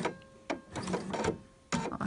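A sewing machine sews Liberty fabric for a shirt in short, uneven bursts of mechanical whirring with brief pauses between runs, heard up close.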